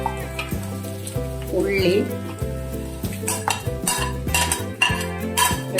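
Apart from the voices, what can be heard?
beef fry sizzling in pan, stirred with coconut, onion, garlic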